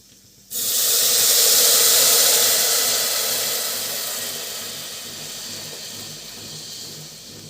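Jaggery water poured into a hot pot while traditional wheat kheer is being made bursts into a sudden loud hiss, then slowly eases off into a steady, softer simmering sizzle.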